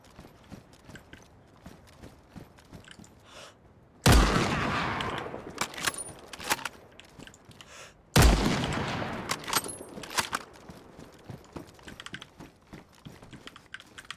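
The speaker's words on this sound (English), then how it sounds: "It's like the loudest gun in the world." Two loud gunshot blasts ring out in a video game, about four seconds apart, each followed by a decaying echo, with quieter clicking and tapping running through the rest.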